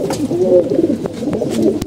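Several male pigeons coo steadily in a loft, overlapping low throaty calls running throughout, fairly close and continuous with a few soft clicks behind.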